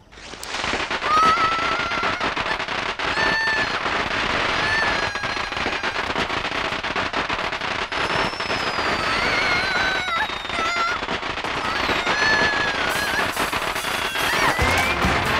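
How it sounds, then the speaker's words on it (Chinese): A string of firecrackers going off in a rapid, dense crackle that lasts throughout, loud and close, with sharp pops and whistling streaks over the continuous bursts. "放个鞭炮有什么可怕的？"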